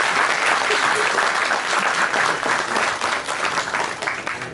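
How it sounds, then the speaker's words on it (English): An audience claps steadily in a dense, loud round of applause that slowly tapers off toward the end. "so please a round of applause for her."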